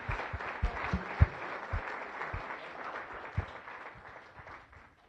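A small crowd at a Las Vegas Rotary Club meeting applauds steadily for several seconds, the clapping loose and uneven, gradually thinning out and fading toward the end.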